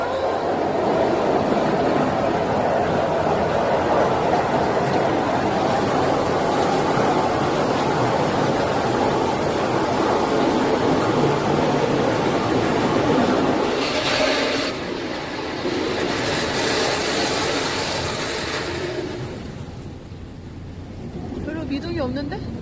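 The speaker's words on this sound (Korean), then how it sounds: "메뚜비의 첫, 첫 경험이야 세차 첫 경험" An automatic car wash runs with a loud, steady rush of spraying water and churning brushes from inside the car, shifting in texture partway through.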